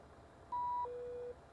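Challenger 650 cockpit avionics in the X-Plane flight simulator sound a short two-tone electronic beep, a higher tone stepping down to a lower one, clean and fairly quiet over faint background hiss.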